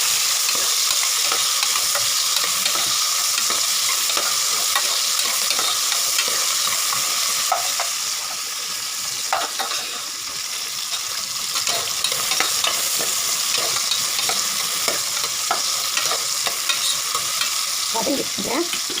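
Small chopped tomatoes sautéing in a hot pan for sambar rice, a continuous crackling sizzle with scraping stirs of a spoon throughout, close and fairly loud, with no voices.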